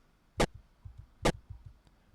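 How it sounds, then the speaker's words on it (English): Two short, sharp, bright hits of a pitch-shifted chiptune-style video game sound effect for the player getting hit, spaced about a second apart, each followed by softer low thumps against a quiet background. "Then this is the sound of when the player gets hit."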